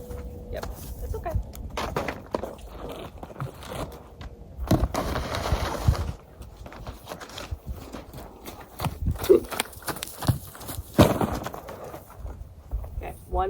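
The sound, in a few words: paint horse walking, hooves clip-clopping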